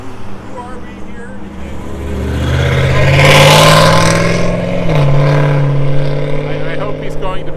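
A passing car revs loudly through a noisy muffler, its engine note building and peaking in a roar before trailing off, beside a roadside gathering with voices and talk underneath.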